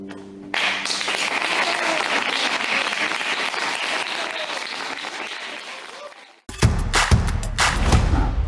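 A long, loud wash of applause from a concert audience for a musician, steady for about six seconds, then cut off by a burst of heavier thuds and claps.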